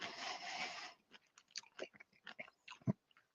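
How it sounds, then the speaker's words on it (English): Close, quiet chewing of Nagami kumquats: a burst of rustling at the start, then a run of separate wet crunches and mouth sounds in an uneven rhythm. "I need to finish chewing these so I don't choke and die live on YouTube."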